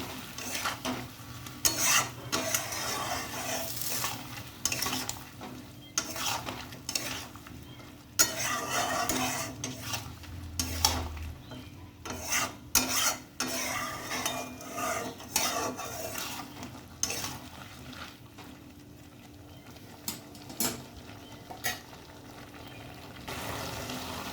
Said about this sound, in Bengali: এবার ভালো করে এটা কষিয়ে নেব।